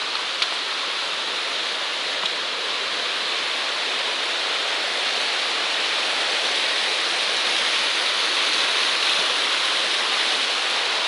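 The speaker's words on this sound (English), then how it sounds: "Just kind of following this nice little creek." A small creek flows along the Appalachian Trail, a steady, even rush of running water throughout, close and moderately loud with no talking.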